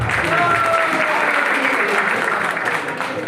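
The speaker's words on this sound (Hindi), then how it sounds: "एक बार जबरदस्त ताली होना चाहिए सर।" Hall audience at a Hindi business seminar breaks into steady, sustained clapping, a thick continuous wash of applause filling the room, with faint voices mixed in.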